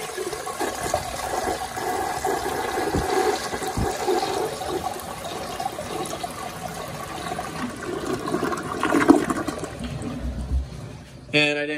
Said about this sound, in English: So here's a flush from the conserver.